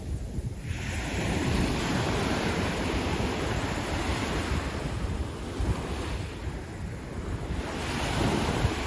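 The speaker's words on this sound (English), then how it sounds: "Don't you just love the sound of the ocean?" Ocean surf rolling onto the beach at Coney Island in winter, a loud continuous wash of breaking waves with rising and falling surges and heavy wind buffeting the microphone.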